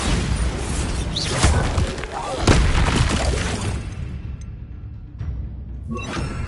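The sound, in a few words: spell explosions from Hogwarts Legacy video game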